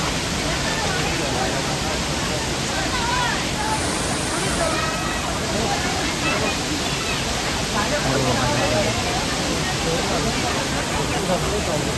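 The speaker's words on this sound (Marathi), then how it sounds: "आमचं धबधबो मांगलेलीचं धबधबो बघा" Mangleli waterfall pours with a steady, dense roar that fills the whole clip, while a crowd of visitors chatters faintly beneath it.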